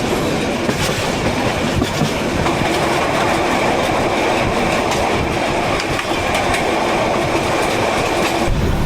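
Tista Express train rolling steadily on rails, with continuous loud close rumble and rhythmic clickety-clack of wheels over track joints throughout, no talk.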